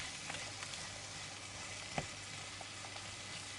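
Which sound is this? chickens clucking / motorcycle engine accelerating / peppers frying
peppers frying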